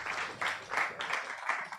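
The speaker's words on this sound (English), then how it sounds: "Please let's give him a round of applause as he comes up" Audience applause for the Director General of the Securities and Exchange Commission at a business event, a short burst of steady, dense clapping from a crowd with no voices over it.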